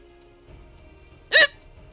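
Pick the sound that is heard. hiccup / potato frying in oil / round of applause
hiccup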